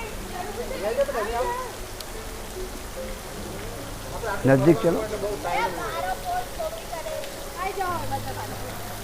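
Sawan Bhado fountain in a royal garden built by Maharana Sangram Singh, spraying water that falls like steady rain, a continuous soft hiss under several people talking nearby.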